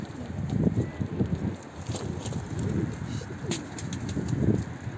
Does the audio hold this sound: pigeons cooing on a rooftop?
yes